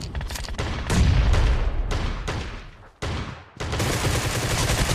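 Dense, loud gunfire from a shooting video game, sustained rapid volleys with booming blasts and a brief lull before another continuous burst.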